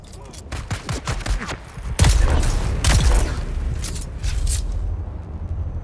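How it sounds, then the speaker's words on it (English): Gunfire in the video game Dune Awakening: a rapid string of sharp shots at the start, then heavier bursts and a booming impact midway, with scattered shots trailing off at the end. "Who's shooting at me?"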